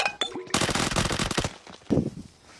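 Rapid automatic gunfire in the mobile battle royale game PUBG Mobile, a loud burst of fast shots lasting about a second, followed by a few scattered shots and a short quieter tail.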